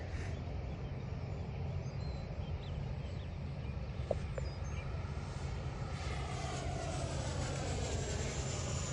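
A Freewing 80mm F9F-8 Cougar RC jet flying on a wet day, its ducted-fan whine a steady, continuous roar heard from a moderate distance with little change in level, no voices.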